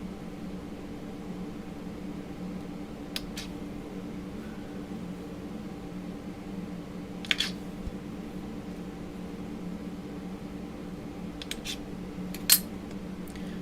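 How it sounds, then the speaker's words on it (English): Scissors snip small paper flowers for decorating an Easter egg, making a few faint, sparse cuts spread over a steady low background hum, with no talking. "let's grab a few flowers, and as you can see I have different sizes here, and let's cut first the small ones."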